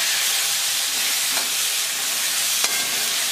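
Chopped onion and tomato frying in a pan for sambar, stirred with a steady close sizzle and hiss, plus a couple of brief scraping clinks of the spoon against the pan.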